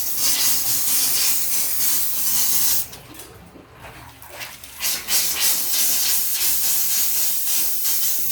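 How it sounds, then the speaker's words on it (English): Air pressure hisses steadily out of the pipes of a newly installed Rheem natural gas water heater, a loud broadband rush that dips briefly and surges again, with faint voices in the background. "So let all the air pressure come out"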